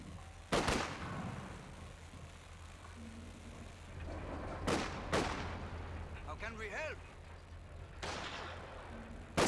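Sharp, loud gunshots from a sniper and Grenadiers in Company of Heroes 2 crack out in a few separate bursts over steady battlefield noise, with a voice talking in between.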